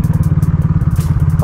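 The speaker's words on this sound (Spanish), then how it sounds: "Qué rico es viajar en moto." Pulsar NS motorcycle on the road, a loud close engine with a fast even thumping pulse and gusts of wind buffeting across the ride.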